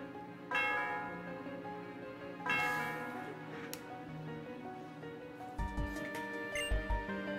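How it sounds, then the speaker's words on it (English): Bell ringing in the Pokémon Black 2 video game, three resonant chimes with long ringing decays, each struck about two seconds apart over looping game music. "Ring the bell!"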